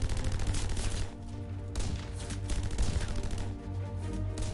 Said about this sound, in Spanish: Aún hay disparos